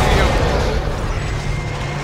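Explosion from the 2008 survival horror game Dead Space, a loud, sustained low rumbling blast filling the whole moment with dense boom and debris noise.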